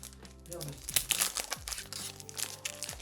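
Crinkly plastic wrapper of a One Piece OP-11 trading card booster pack crackles and tears in quick, close bursts while being opened, with a voice talking over it.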